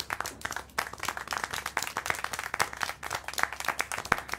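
Rapid, uneven hand clapping in the video game Syberia: The World Before 2, a steady patter of sharp claps with no voices over it.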